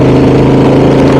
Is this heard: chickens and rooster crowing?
no